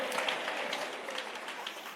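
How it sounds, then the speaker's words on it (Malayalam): A church congregation clapping together in a steady, moderately distant patter of many hands, fairly soft and without speech. "നല്ല കൈയടിച്ച് ഹല്ലേലൂയ പറയണം."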